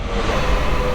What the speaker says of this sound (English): Here goes the train.